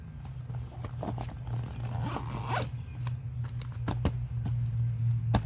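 The zipper on a small pouch of a Source Aquasource 25-liter water tanker hydration carrier is zipped in several quick rasping pulls, close and clear over a steady low hum.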